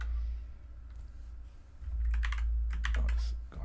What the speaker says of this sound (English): Let me type this before I forget.